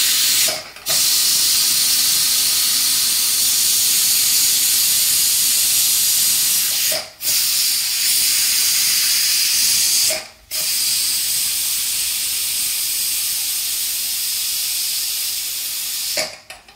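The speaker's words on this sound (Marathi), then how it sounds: "कुकरची वाफ निघेपर्यंत" A pressure cooker, just used to boil potatoes, releases steam with a loud, steady, close hiss. The hiss runs almost continuously, broken by a few brief pauses.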